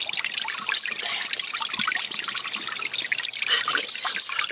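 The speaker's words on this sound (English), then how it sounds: "Love running water like that." Water trickles and splashes steadily from a small garden water feature, a soft continuous bright babbling heard up close with no talk over it.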